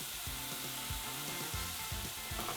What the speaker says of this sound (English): And now fry these ingredients for between 5 and 10 minutes whilst remaining over a medium heat on the stove